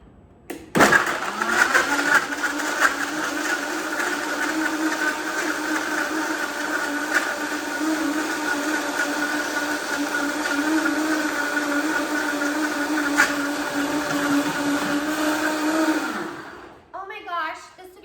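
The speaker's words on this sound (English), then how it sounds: "I did let it blend for about 20 to 30 seconds" A blender whirring through a berries and cream smoothie with stevia, one loud steady motor drone running for about fifteen seconds before winding down, with brief rattling after it stops.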